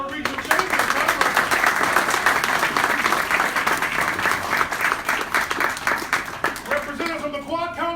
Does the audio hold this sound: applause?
yes